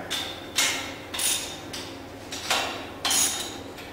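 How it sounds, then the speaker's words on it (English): Bolts being tightened on the canister of a PeopleFlo industrial pump's spindle idler head, giving a rhythmic series of about seven short ratcheting metallic bursts, close and clear, with no voices. "Now we can tighten the bolts."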